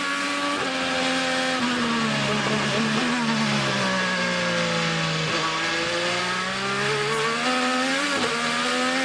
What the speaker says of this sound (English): On board with Simona Di Silvestro. Let's have a listen